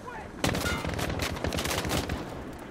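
Rapid automatic gunfire in the Call of Duty: Modern Warfare video game, a dense sustained burst of loud shots starting after a brief quiet lead-in and continuing without pause.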